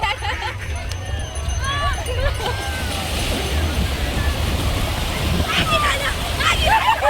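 Waves roll in at Bakkhali beach, a broad, steady wash of surf close by, with people chatting and calling out over the water throughout.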